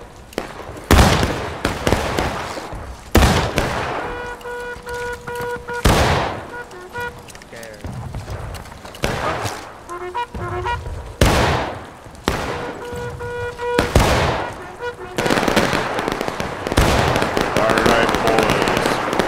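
Artillery in the Civil War game War of Rights fires again and again: loud, sharp booms in an irregular series, some close and some further off, mixed with crackling shots while people talk between the blasts.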